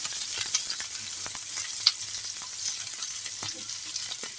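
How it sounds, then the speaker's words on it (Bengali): Chopped onions fry in a pan with garlic, giving a steady bright sizzle throughout, broken by occasional stirring scrapes and small pops, while potatoes and egg are being cooked. "পেঁয়াজটাকে আমি ভাজা ভাজা করে নিব"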